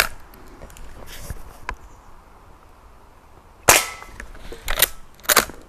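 Lever-action BB rifle, an Umarex Cowboy Legend or Henry Frontier, fires several sharp cracking shots with a faint metallic action click early on, the louder shots clustered near the end with short quiet gaps between them.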